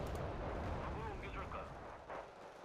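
Artillery fire in the real-time strategy game Wargame: Red Dragon, heard as a dense, continuous rumbling barrage of booms at moderate loudness, with no clear gaps between blasts.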